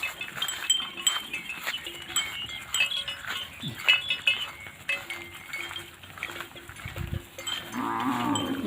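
Cattle or water buffalo lowing as they are driven into a pen at a rural Thai village, with moos rising over a busy outdoor background. Occasional faint clinks are heard, and someone speaks softly at times.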